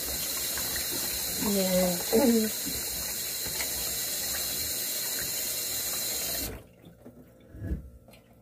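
Water runs steadily from a kitchen tap in Korea while a pot is washed, a loud continuous gush under someone speaking, until it cuts off abruptly near the end, leaving quiet room sound.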